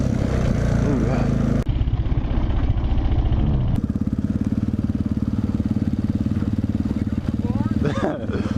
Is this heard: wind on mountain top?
no